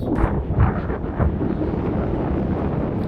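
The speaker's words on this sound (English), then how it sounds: "It's so windy." Heavy wind buffets the microphone in a constant low roar during a motorcycle trip across the USA on a 2024 Harley-Davidson, rumbling and gusting throughout with no other sounds coming through.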